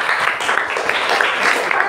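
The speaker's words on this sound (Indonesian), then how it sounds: "beri aplaus." A classroom audience claps together in brief, dense, lively applause, loud and close, lasting under two seconds.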